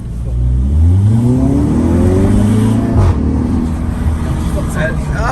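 An ABT-tuned Audi TT accelerates from inside the cabin, engine pitch climbing through a gear, dropping at a shift, then building again, with people talking over it.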